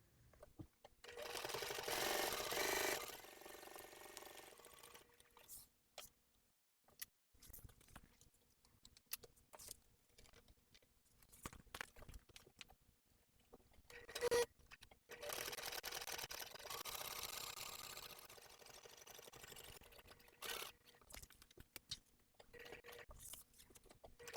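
A sewing machine stitches the straight side seam of a clear and jelly vinyl tote bag in two bursts of rapid, even whirring, close and quiet, with a pause and light handling noises between them.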